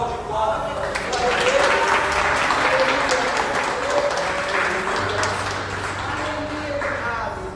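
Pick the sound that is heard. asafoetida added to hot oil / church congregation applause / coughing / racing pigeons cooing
church congregation applause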